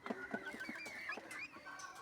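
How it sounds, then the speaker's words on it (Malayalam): Chickens squabble and peck at one another near a home kitchen, giving a quick run of squawks and honking clucks over about two seconds, fairly faint and with no talking. "കോഴികൾ ഭയങ്കര കൊത്തുകൂടക്കം പറഞ്ഞാൽ കൊത്തുകൂടക്കം"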